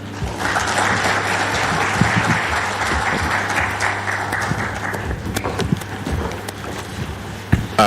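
An audience at an aviation conference applauds the TSA administrator, dense clapping from a large hall that swells early and then thins into scattered, sharper claps near the end.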